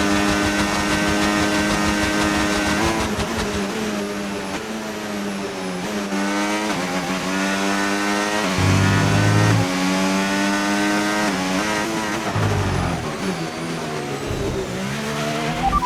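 A Formula 1 car's engine in the F1 25 racing game screams at high revs at Silverstone, with rising pitch sweeps through gear changes and brief drops in tone, loud and continuous.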